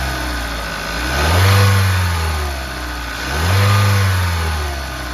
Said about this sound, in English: We're going to go ahead and give her a couple of revs to see if that'll change anything.